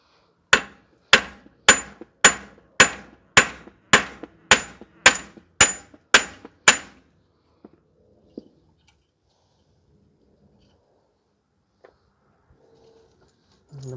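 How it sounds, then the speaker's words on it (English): A dozen sharp metallic hammer blows ring out in a steady rhythm, close and loud, hammering through the rear wheel hub of a 2010 Subaru Outback 3.6, followed by a few scattered clanks and then quiet. "So now I'm just hammering through."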